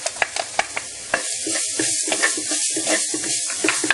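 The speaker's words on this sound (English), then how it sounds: "Now you can add in the shredded coconut." Shredded coconut being stirred and roasted with curry in a pan for Sri Lankan tripe curry, with close, steady sizzling broken by repeated scraping strokes of a spoon against the pan.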